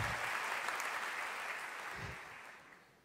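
Faint, distant applause from a church congregation at a youth worship gathering, a soft continuous patter of clapping that slowly fades out.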